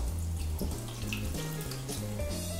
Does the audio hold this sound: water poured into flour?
yes